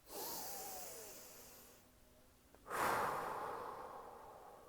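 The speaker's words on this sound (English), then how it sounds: "just take a deep breath" Two long, deep breaths sound close to the mic: a slow, airy inhale, a brief pause, then a strong exhale that fades out gradually.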